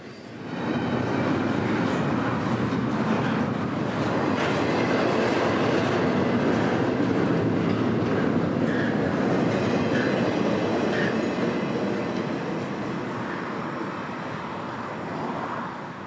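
A Florida East Coast Railway freight train passes close by with a loud, steady rumble and rolling wheel noise that holds throughout before easing slightly near the end.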